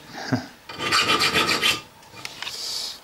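A hand file rasps across a metal knife, cutting homemade guilloché decoration the old-fashioned way in a forge; a short stroke comes first, then a long sustained scraping run, a pause, and lighter strokes, close and fairly loud.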